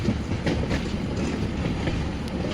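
A passenger train on the Chennai to Baripada route rolls on just after leaving the station, heard from inside the carriage as a continuous rumble with soft rhythmic clickety-clack of the wheels, no talking.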